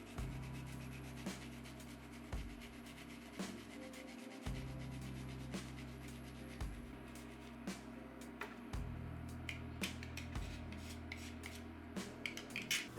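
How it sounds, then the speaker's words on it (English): Garlic clove scraped over a grater for flu tea, a series of close rasping strokes broken by short pauses, with no one speaking. "I'm going to grate one of the garlic"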